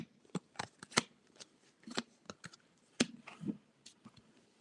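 Tarot cards are shuffled by hand in quick riffling bursts, a series of crisp, close flicks and slaps at an uneven rhythm, quiet and alone with no talk.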